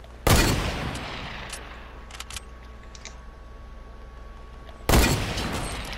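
Heavy bursts of gunfire in a shooter video game, a loud dense volley at the start and another near the end, with quieter scattered shots and clatter in between.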